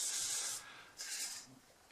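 A Scotch-Brite pad rubbed over the exposed metal top of a table saw, making two hissing, scratchy scrubbing strokes with a short pause between them, close and fairly quiet.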